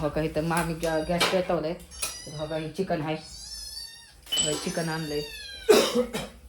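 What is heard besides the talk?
cat meowing downstairs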